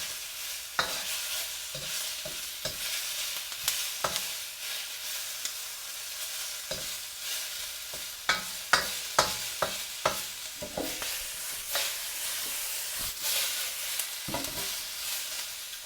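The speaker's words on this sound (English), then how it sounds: "We just want to mix that chicken in, bring it up to temperature without breaking it down into smaller pieces." Chicken being stirred and fried in a hot pan, with a steady sizzle and a run of sharp scraping, clattering stirs that come in bursts, close and fairly loud, with no talking.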